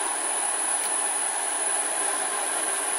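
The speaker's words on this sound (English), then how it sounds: "the spindle speed on the end of the mill is give or take 425 rpm" A milling machine spindle spins at roughly 425 rpm on a variable frequency drive, giving a steady, loud mechanical whir with a thin high electronic whine over it, constant and unbroken throughout.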